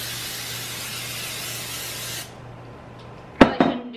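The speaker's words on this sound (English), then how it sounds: "you are gonna wanna spray the pan for this one" Cooking spray hisses steadily onto a casserole pan for about two seconds and then stops. A couple of sharp knocks from the can or pan follow.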